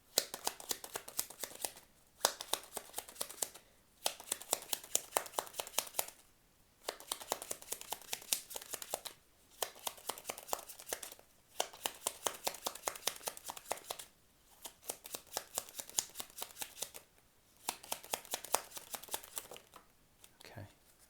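Tarot cards shuffled in repeated bursts of rapid riffling, each lasting a couple of seconds and separated by short pauses, close and fairly loud throughout.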